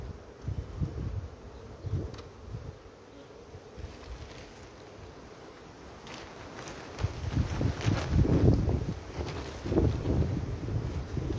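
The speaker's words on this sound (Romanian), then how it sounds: "Era bine dacă nu bătea vântul ăsta" Wind gusts buffet a microphone outdoors beside red ant colonies being tended, a low rumbling roar that swells and fades, growing stronger and more blustery in the second half, with no talking.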